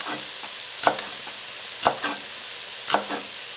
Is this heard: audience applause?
no